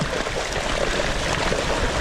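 A bicycle pedals through deep floodwater on a road, with continuous close sloshing, splashing and trickling of water churned around the wheels and cranks, steady throughout.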